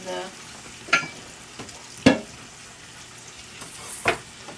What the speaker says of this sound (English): I will let it cook ribs and onions for a couple minutes